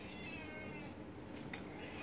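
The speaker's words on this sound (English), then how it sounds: "My cat's in here now, so sorry if there are meows." A pet cat meows indoors in a quiet room, a couple of soft, faint calls over a low background hum, with no speech.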